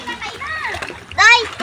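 Water splashes in shallow river water, with a louder burst of splashing near the end, while a voice and other voices chatter nearby.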